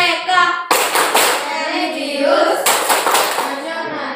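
A group claps hands in a quick patterned rhythm in an Indonesian classroom, fairly close, with children's voices chanting along throughout.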